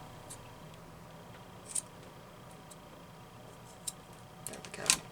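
Scissors snipping lace for junk journal collage ephemera: a few soft, separate cuts with quiet pauses between them and a slightly louder cluster of snips at the end, close up with no talking.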